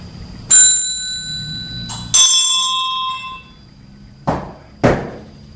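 An old teacher's desk bell struck twice, each a sharp bright ding with a long metallic ring, followed by two dull knocks, close and loud in a quiet room.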